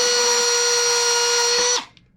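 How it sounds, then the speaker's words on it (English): A Dremel rotary tool grinds a pointed grub screw flat, a loud, steady high-pitched whine held close for nearly two seconds before spinning down and stopping abruptly. "grind that down flat real quick so it holds better"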